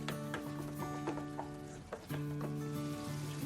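Tomato cooks with hot water in a pan for a Kerala-style prawn roast, giving a steady quiet sizzle while a spoon taps and scrapes the pan now and then during stirring, with a tonal hum behind it.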